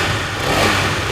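Honda CB motorcycle engine and exhaust running steadily at close range, a smooth, even mechanical drone with a faint raspy edge and no revving swings over a brief stretch.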